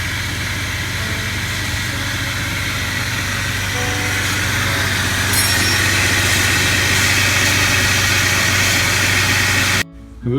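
A 2004 Jeep WJ engine runs steadily just after a new starter was installed, a close, continuous idle drone that holds level for about ten seconds before cutting off abruptly near the end.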